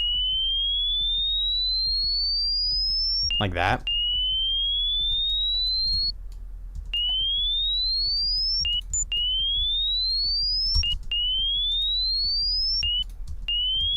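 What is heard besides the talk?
high-pitched synth sound for a deathstep track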